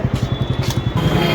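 Motorcycles idle in a traffic jam at the crowded Maha Kumbh Mela 2025 in Prayagraj, near the Sangam. A close engine pulses with a steady, rapid low throb under a broad noisy wash of crowd and traffic.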